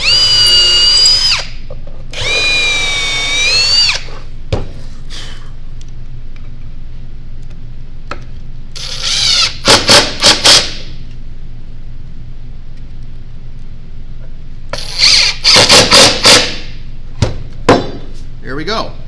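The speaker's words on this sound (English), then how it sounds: "So you want to go easy when you're putting the screws in." A power drill drives screws into a wooden birdhouse board in several short, loud whirring bursts, rising and falling in pitch, with quiet pauses between them.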